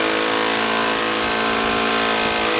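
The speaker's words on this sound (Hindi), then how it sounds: "मशीन से ड्रिल हो रहा है" Machine drilling from overhead during a rooftop solar panel installation, a loud, steady whirring drone that runs continuously without pause.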